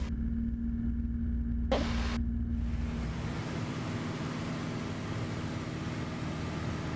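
A small Twin Star airplane's engine at full throttle, heard from inside the cockpit as a steady, dense roar with a brief hissing burst early on.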